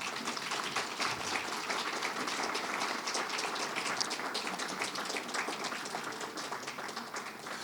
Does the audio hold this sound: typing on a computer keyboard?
no